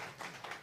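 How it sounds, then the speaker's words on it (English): A church congregation claps and applauds at a Sunday celebration service, a steady wash of hand claps heard alone. "Can we give them another round of applause?"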